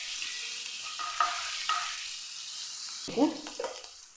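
Ginger and garlic frying in hot oil with onion going in, a steady sizzle with a few metallic clinks and a burst of stirring scrapes near the end; talk is faintly present.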